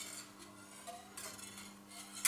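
A utensil gently stirs soy milk that has just had tofu coagulant added, giving a few faint, scattered clinks and light scrapes against the pot in a quiet room, with no talking.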